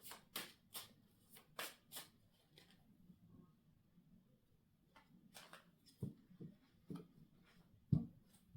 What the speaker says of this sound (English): One more shuffle, all right?